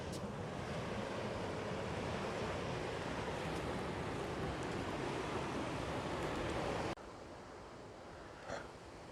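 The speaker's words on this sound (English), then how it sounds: "You can see some massive waves coming in there." Loud, continuous roar of surf and crashing waves at Castlepoint beach, New Zealand, broadband and steady, dropping suddenly to a quieter wash near the end.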